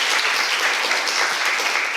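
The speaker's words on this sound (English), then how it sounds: "Let's give Sofna a round of applause." Dense, steady applause from a youth-focused cultural panel audience, a continuous wash of many hands clapping at full volume for two seconds with no voices rising above it.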